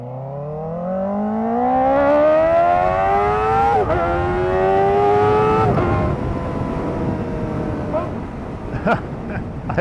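A 2024 Kawasaki Ninja ZX-4RR sport motorcycle engine revs up, rising in pitch, then drops and climbs again through gear changes, loud and close.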